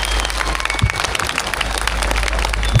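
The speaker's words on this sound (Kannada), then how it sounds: "ಶ್ರೀ ಭುವನೇಶ್ವರಿ ಕನ್ನಡ ಸಂಘಕ್ಕೆ ಒಂದು ಮೆಚ್ಚುವರಾದ ಚಪ್ಪಾಳೆ ಬರಬೇಕು." Audience applause at a Kannada Rajyotsava celebration in Kolar, a dense, sustained patter of many hands clapping at once, loud and close, with no talking.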